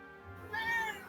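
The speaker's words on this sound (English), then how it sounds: "This is my cat, people." A pet cat meows once, a short, clear call close by, with soft room noise and no talk.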